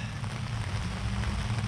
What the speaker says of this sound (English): So the rain is coming down, not real hard